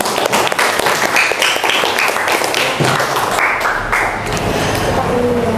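A school class claps for classmates, close and fairly loud, the clapping uneven with a few sharp taps and some voices mixed in.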